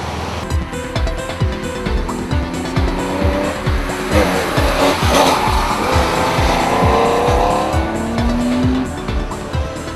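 Porsche rally cars racing hard, engines roaring through gear changes with repeated rhythmic bursts and long tire squeals as they slide through corners, loud and close with no talking.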